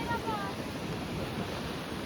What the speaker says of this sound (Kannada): ಸಣ್ಣ ಗಾಳಿ ಬೀಸ್ತಾ ಇದೆ